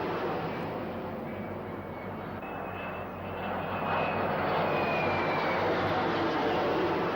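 A formation of Harrier jets launched from the carriers Hermes and Invincible during the Falklands War roars overhead, a loud, steady, broadband engine rumble that swells slightly as the planes wheel around the sky.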